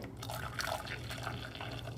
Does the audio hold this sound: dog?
no